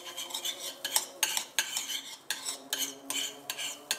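Utensil stirring olive oil in the base of a tagine pot, a series of sharp metallic scrapes and clinks against the pot at an uneven rhythm, close and fairly quiet.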